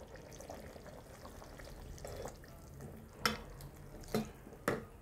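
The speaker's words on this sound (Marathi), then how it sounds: "आणि 1 ग्लास पाणी टाकायचं" Water poured into a pan of spicy stuffed brinjal cooking in masala, a soft steady pour and sizzle followed by a few sharp splashing bursts near the end, close and fairly quiet.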